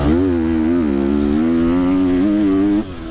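A 215 motocross bike engine revs hard and loud up close, holding a buzzing high-rpm pitch that wavers between gears before suddenly dropping off near the end.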